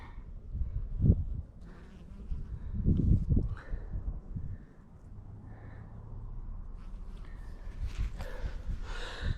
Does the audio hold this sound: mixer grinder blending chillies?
no